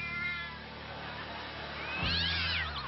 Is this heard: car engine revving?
no